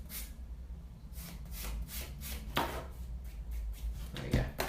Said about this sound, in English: this sanding consists of pretty much just sanding in one direction